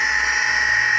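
Motor of a Katoku KDC-240D double-head sharpening machine runs at steady speed, a loud, even high-pitched whine with no breaks.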